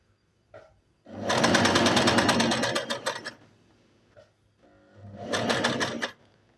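A Singer Inspiration sewing machine runs a decorative stitch in two loud bursts, about two seconds and then one second long, with rapid needle clatter and a short quiet pause between them.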